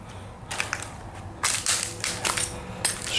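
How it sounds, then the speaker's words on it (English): Footsteps crunching over broken glass on the floor of an abandoned schoolhouse room, coming as a few sharp, gritty crackles in short bursts between quieter pauses, close by and with no talk. "I'm walking on broken glass, so trying to be a little bit careful."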